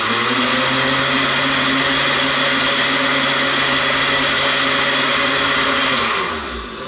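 A blender whirs steadily as it spins a frozen protein shake, a loud, continuous motor drone that runs for about six seconds and then winds down abruptly.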